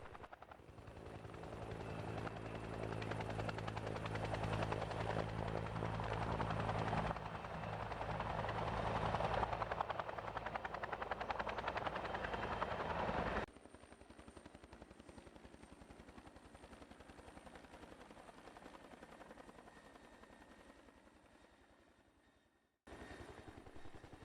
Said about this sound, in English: and helicopters take over.